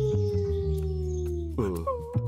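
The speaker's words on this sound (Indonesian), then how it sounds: "Lolongan serigala." A cartoon wolf lets out a single sustained, wavering howl that slides upward near the end, loud and close with no talk over it.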